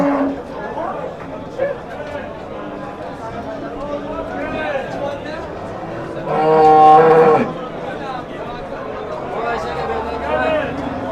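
Cows mooing at the Shohidon livestock market, with deep, drawn-out lows rising over a steady crowd chatter and nearby talking voices.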